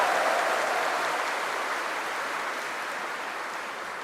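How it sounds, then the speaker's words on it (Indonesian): Audience applause at the opening ceremony of Permata CAI 2026, a dense, steady wash of many hands that fades slightly over a few seconds, heard alone. "Tepuk tangan dulu."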